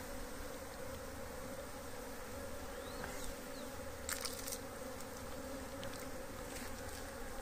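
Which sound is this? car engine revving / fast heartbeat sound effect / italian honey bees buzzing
italian honey bees buzzing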